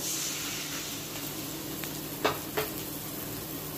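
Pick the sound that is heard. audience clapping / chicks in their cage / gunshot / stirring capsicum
stirring capsicum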